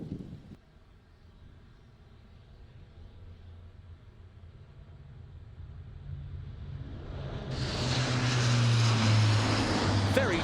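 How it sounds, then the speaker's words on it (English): An Airbus A400M military transport at an air show takes off, its turboprop engines building from a distant drone to a loud, close roar with a steady low hum. "Very smartly into the air, a 70-degree turn after takeoff."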